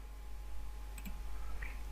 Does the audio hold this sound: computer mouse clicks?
yes